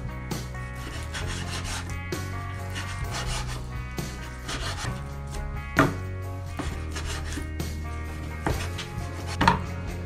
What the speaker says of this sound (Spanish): Voy a cortar picaditos.